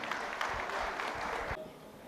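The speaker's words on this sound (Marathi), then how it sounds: "जोरदार टाळ्या काबरा सरांसाठी" Applause for Kabra sir at a closing ceremony, a steady wash of clapping from the audience that cuts off abruptly toward the end, moderately distant.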